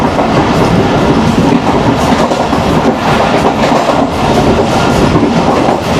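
A Pakistan Railways train runs through a station at about 80 km/h, heard from the guard cabin as a loud, steady roar with clattering wheels, close and continuous throughout, no voices.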